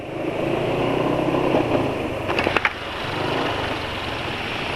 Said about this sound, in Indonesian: Kasar, suara kasarnya masih suara kasar yang aditifnya masih fungsi, jadi nggak betul-betul kasar banget.